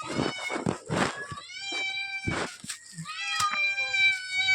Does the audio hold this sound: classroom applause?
no